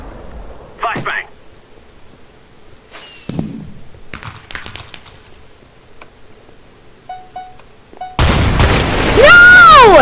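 A flashbang grenade goes off in Minestrike, a Counter-Strike style Minecraft game mode, bursting loud and bright at the end amid scattered gunfire clicks and thuds, with a ringing tone after the blast.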